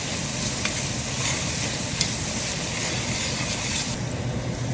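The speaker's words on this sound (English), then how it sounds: "Add 1 large onion into the pan." A large onion and garlic frying in a pan, producing a steady loud sizzle with faint stirring scrapes and a brief clink, near and uninterrupted.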